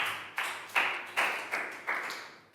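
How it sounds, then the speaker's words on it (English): A Year 3 class claps in unison for a classmate during a geometry lesson: a steady, even beat of about seven sharp, close claps, each fading quickly before the next. "Big round of applause for Nadia."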